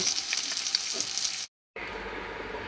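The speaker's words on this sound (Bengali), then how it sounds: "এই যে আমার মাছটা ভাজা হয়ে গেছে এখন আমি এই যে পেঁয়াজটা বাজিয়ে নিতেছি" Fish frying in oil in a pan, giving a steady, bright crackling sizzle that cuts out briefly and then carries on at the same level, with no voices.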